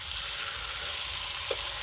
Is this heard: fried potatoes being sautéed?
yes